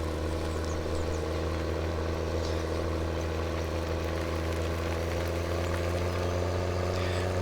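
A John Deere tractor with dual rear tires ploughing in Farming Simulator 17 gives a steady low engine drone, loud and continuous throughout with no talk.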